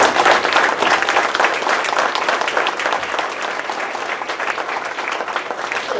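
A graduation crowd gives the school's teachers a big round of applause, a full, steady clapping that stays loud before easing slightly toward the end.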